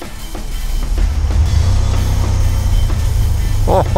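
A Honda VFR800 motorcycle engine idles and revs nearby, a low throbbing drone that swells and holds steady, with a brief higher whine near the end.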